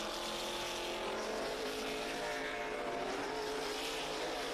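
Race cars of the Grand National Super Series roar past at speed at Lonesome Pine Motorsports Park, heard as a constant, loud, washed-out engine drone from a trackside position near the flagman.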